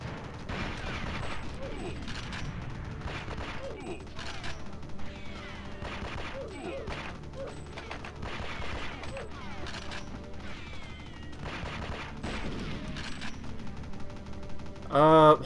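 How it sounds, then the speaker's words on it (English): Gunfire in a modded GoldenEye 007 video game, rapid clusters of sharp synthetic shots and automatic bursts scattered throughout, mixed with game effects and music. "I hear gunfire"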